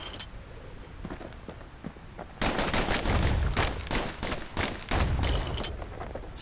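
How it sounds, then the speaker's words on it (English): Slinger pistols firing in Bastion, a rapid volley of sharp gunshots at close range, loud bursts in quick succession that begin partway through after quieter scuffling. "Know what's better than having a slinger pistol in a fight?"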